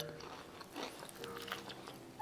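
Someone bites and chews an air-fried chicken wing, a close, quiet series of crisp crunches and chewing sounds with no talking.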